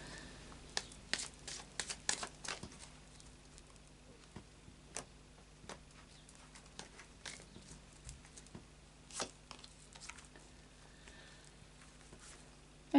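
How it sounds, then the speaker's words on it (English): Tarot cards being shuffled by hand: soft, irregular riffling taps and flicks, quiet and close, in scattered short bursts with pauses between, no voice. "Another couple of shuffles."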